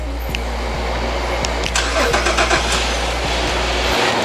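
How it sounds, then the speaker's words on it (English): A 2009 GMC Acadia SLT-1 FWD engine starting via remote auto start: a steady close mechanical drone with faint clicks and a brief rise as it catches, then settling into a continuous idle hum. "One feature that I really do love about this car is the auto start."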